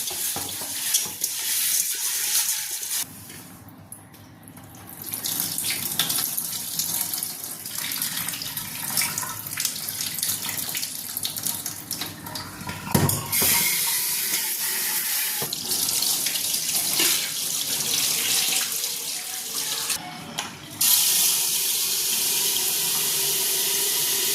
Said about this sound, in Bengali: আগে আমি ভাতটা বসিয়ে নেব, চালটা ধুয়ে নিই।